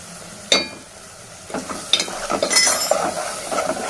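A spoon stirs fish curry ingredients, including raw tamarind, in a pan, with scattered scrapes, soft clinks and light sizzling that grow busier toward the end. Nobody speaks.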